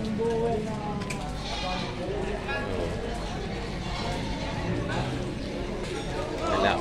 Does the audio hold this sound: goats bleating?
yes